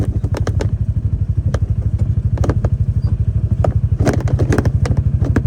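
A four-wheel drive vehicle runs loud and close on a dirt road near Whitetail Road, its engine chugging steadily in a fast pulsing rhythm, with repeated clattering thumps and rattles from the rough track.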